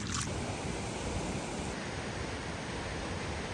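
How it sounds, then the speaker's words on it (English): A loud, strong mountain river rushing on the hike from Mestia to Ushguli in Georgia, a steady close roar of churning water filling the whole stretch with no voices. "This river scares me a lot. It's so loud, it's so strong"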